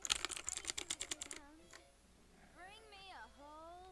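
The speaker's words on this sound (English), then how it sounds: "Listen to my keyboard talk." Rapid computer keyboard typing, a quick burst of clicky keystrokes, close and fairly loud, then stops; afterward a cat meows and purrs nearby.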